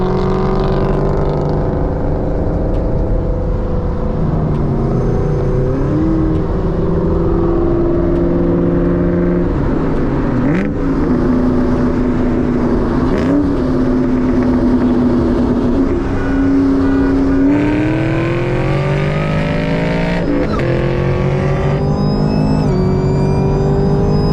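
A 600 hp Ford Cobra with a 6-speed and a Camaro ZL1 with a 10-speed automatic accelerate hard from 60 mph, a loud continuous engine roar rising in pitch through several gear shifts, heard close up from inside a car.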